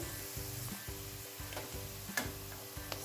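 Jaggery is mixed into freshly deep-fried food in a pan while pickle is being made: an even, soft sizzle with regular scraping strokes of a spoon and a couple of light clinks.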